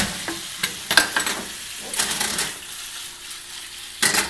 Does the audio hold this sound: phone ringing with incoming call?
no